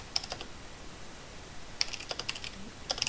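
Typing on a computer keyboard, a few short bursts of light, crisp key clicks separated by pauses, close and fairly quiet against a faint background hiss.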